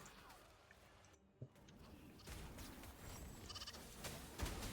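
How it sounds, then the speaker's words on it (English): Sheep-like bleating from a sheep enemy in the Wuthering Waves video game, heard in short wavering bursts over a busy game soundscape of battle noise and effects. "I heard a sheep."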